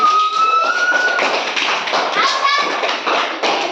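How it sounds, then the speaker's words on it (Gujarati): Children clap their hands during a school balance game, a run of quick, close taps and claps with bright whistle-like tones and young voices mixed in. "તાળીઓ પાડો ભાઈ તાળીઓ પાડો"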